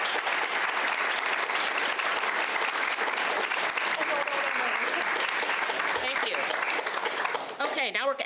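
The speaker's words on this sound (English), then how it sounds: "how about a quick round of applause for these gals?" Audience at a San Ramon Valley Unified School District forum clapping steadily for several seconds, a dense sustained round that thins toward the end, with a voice briefly audible underneath.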